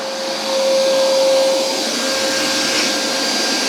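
A Hoover SmartWash Pet carpet cleaner runs with its hose spraying, giving a loud, steady vacuum whine and hiss with a constant high tone, close and alone.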